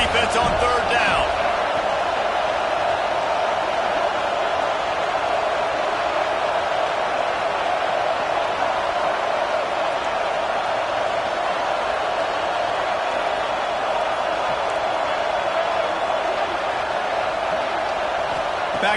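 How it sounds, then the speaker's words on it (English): A football stadium crowd roars steadily behind the defense on third down, a broad, sustained wall of cheering that never lets up, with a commentator talking over it. "Decibels rising as the crowd gets behind this defense on third down."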